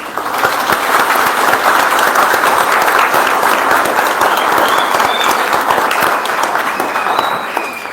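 Loud, sustained applause from a large church congregation, steady clapping that carries on for several seconds without letting up.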